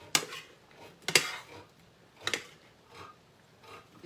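Pots and metal utensils clink and scrape in a kitchen while cabbage and onions cook on the stove, a few sharp, close knocks spaced about a second apart with softer scraping between.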